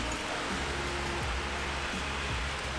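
Steady, dense hiss of rain pouring down, continuous and fairly loud throughout, with a low rumble underneath.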